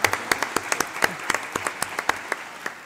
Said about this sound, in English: I would like to ask you for a round of applause for the panelists